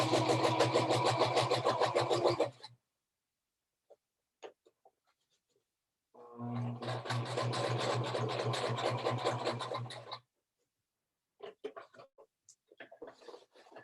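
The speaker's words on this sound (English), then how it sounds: "I'm going back down, only stitching in the crack." Sewing machine stitching in the ditch of a fabric iPad bag with a welt pocket, two steady rapid runs of needle chatter separated by a pause with faint handling clicks, close and clear with no talk.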